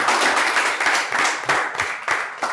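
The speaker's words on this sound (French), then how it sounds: "Ça applaudit ici." An audience at a live show applauds, with dense, loud clapping from a crowd close by that swells and dips in waves for the whole moment.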